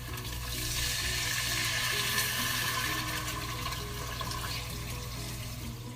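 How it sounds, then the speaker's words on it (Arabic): Water poured into a cooking pot of chicken with sliced garlic and tomato paste for a red chicken tashreeb, a steady close splashing pour that runs continuously for about six seconds with no talk. "وهسه صار وقت أضيف عليهم المي"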